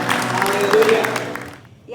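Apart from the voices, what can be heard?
applause in a church service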